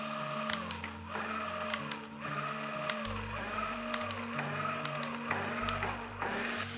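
Mid-drive ebike motor whirring under throttle, with a steady hum that pulses and swells in repeated surges as the throttle is released and reapplied, close and continuous with no talk.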